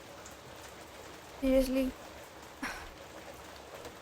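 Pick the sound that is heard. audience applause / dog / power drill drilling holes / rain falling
rain falling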